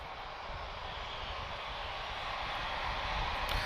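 A Turkish Airlines airliner taxiing at Lisbon Airport: a steady, broad jet-engine roar heard from a distance, slowly swelling slightly louder over a few seconds with no talk.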